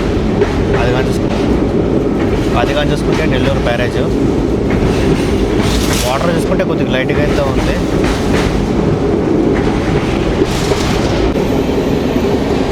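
Train 17248 on the Dharmavaram–Narasapuram route crosses the Penna river bridge near the Nellore barrage, a loud, constant rolling roar with rhythmic wheel clatter and occasional squeals, while someone talks over it.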